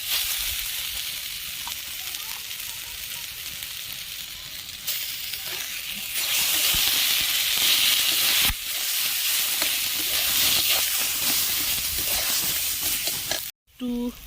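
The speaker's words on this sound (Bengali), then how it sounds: "এবার আমি কড়াইয়ে মটরশুঁটি বাটাটা দিয়ে দেব।" Mashed green pea paste fries in hot oil in a wok, a loud steady sizzle and hiss that swells after the paste goes in, with brief scraping and stirring noises near the end.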